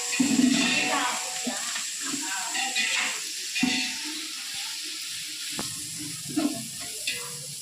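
Tomato and curry leaves hit hot oil in a village chicken dish and sizzle loudly, with stirring and clattering bursts mixed into the frying and a voice talking over parts of it.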